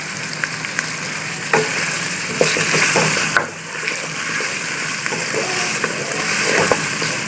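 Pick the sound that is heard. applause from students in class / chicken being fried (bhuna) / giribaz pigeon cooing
chicken being fried (bhuna)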